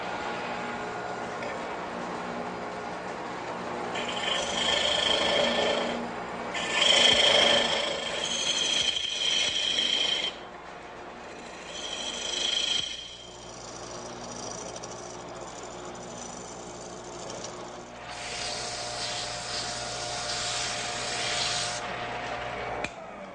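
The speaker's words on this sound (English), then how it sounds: "Okay, we finished our sanding." Power sanding inside a turned wooden bowl on a lathe: a steady, loud abrasive whir with surging bursts and brief pauses, running continuously up close with no talk.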